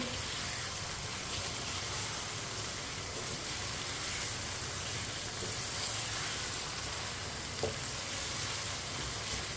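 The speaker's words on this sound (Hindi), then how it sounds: "प्याज और लहसुन को मैंने 3-4 मिनट के लिए पका लिया है। इसका कच्चापन खत्म हो चुका है। चिकन डाल लेंगे। मिक्स कर लेंगे।" Chicken frying in a pan with softened onion and garlic, a steady dense sizzle like light rain, with faint stirring and one small click near the end.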